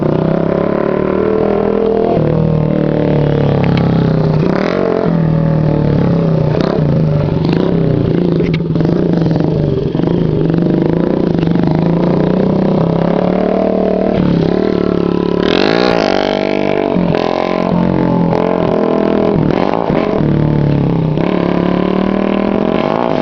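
A motorcycle engine revs loud and close through a wheelie attempt, with rising and falling throttle surges, clattering and scraping sounds.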